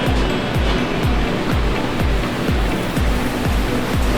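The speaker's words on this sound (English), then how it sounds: "we're going to put it on the grill." Kalbi-marinated bavette steak sizzles on a grill, a loud, dense, steady hiss with a regular pulsing beneath it, close and continuous with no talking.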